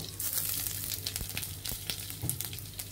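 Cumin, fenugreek and radhuni hit hot oil with browned ginger, giving a close, busy crackling sizzle with scattered sharp pops throughout.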